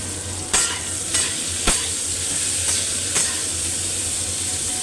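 Kalla fries in a pan over a home kitchen stove, a steady close sizzle and hiss with a low hum beneath, broken by several sharp clinks of a utensil at regular intervals.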